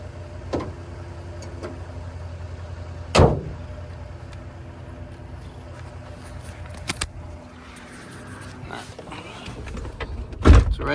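A 2005 Chevy Trailblazer engine idles smoothly with a steady low hum throughout, broken by a few sharp mechanical clunks such as a hood or door closing, near and fairly loud.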